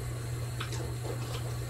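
Hot shower water streams steadily while a prosthetic liner is rinsed. The spray gives a continuous close wash with a low hum beneath it, broken by small splashy surges as the liner moves through the flow.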